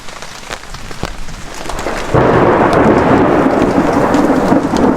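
A thunderstorm: steady heavy rain with deep thunder rumbling close, the downpour swelling louder partway through and then holding a dense, even roar.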